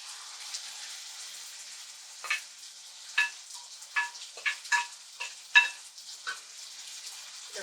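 Blended tomatoes and parsley simmer with ground beef in a pot, a soft steady sizzle broken by a series of clinking spoon stirs and scrapes at uneven intervals, close and fairly quiet.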